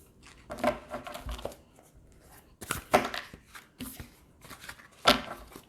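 Tarot cards are riffled and shuffled up close in three separate bursts of crisp flapping and slapping, with short quiet gaps between them and no voices.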